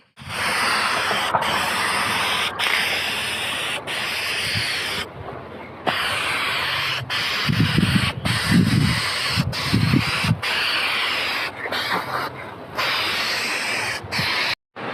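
A can of regular spray paint laying a heavy final color coat on a bike, with loud continuous hissing bursts broken by short pauses between passes, close by and with no talk.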